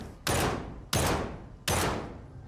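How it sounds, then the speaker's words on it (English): Three heavy rifle shots fired at a mutant in the shooter Stalker 2, spaced about 0.7 seconds apart, each a loud close blast with a long decaying tail, no talk. "let's go ahead and use the rifle we just got in this video and label it right in the face"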